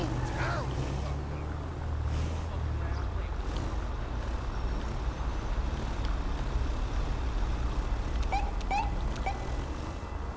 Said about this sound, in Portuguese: Demorou passar o caminhão